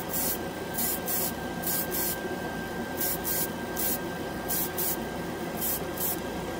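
An airbrush sprays ChromaAir model paint in short repeated bursts of close hissing air, each lasting about half a second, with a steady compressor hum underneath.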